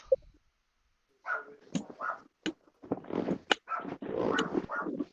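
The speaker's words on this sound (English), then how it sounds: "Now you hear a chihuahua inside the house." Chihuahua barking and yapping inside a house, a quick run of sharp, close bursts and whiny vocal sounds after a short quiet start.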